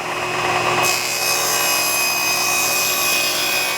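A handheld saw cuts a curve partway into a wooden piece for a miter sled, giving a steady, close rasping and rubbing that runs throughout, slightly sharper after the first second.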